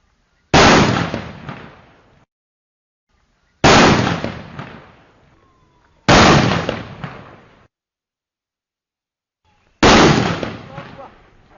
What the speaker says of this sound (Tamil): இளந்தாரிகளுக்கான வெடியெல்லாம் வெடிச்சாச்சு பார்த்தாச்சுப்பா